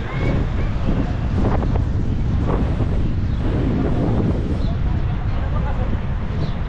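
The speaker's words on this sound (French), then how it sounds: "Ce vent de poussière, on en a vraiment besoin." Strong, gusty, dust-laden sandstorm wind in Algeria buffets the microphone with a constant roaring rush, heavy and unbroken throughout.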